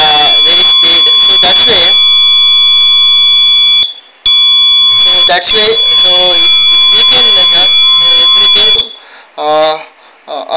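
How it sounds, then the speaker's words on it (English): Loud, steady electronic buzzer tones from a vehicle safety system's rear-approach warning, sounding in long stretches with a brief gap, while someone talks over them throughout. "they will give you the buzzer like a vehicle is coming backward"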